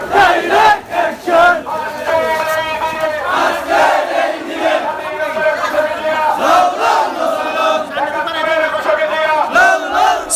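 A large crowd of BNP activists chants slogans in unison while marching through main roads in Bajitpur, Kishoreganj, on Victory Day, with rhythmic call-and-response shouting that rises and falls loudly throughout.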